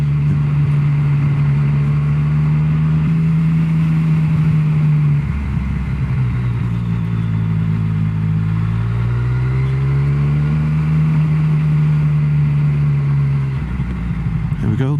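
Up close in a car park near Pistyll Rhaeadr waterfall in Wales, a motorbike engine idles with a steady throb, then rises and falls through several revs before settling back.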